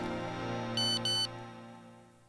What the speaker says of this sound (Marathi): आशाचा मेसेज